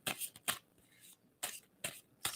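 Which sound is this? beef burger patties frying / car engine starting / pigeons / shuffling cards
shuffling cards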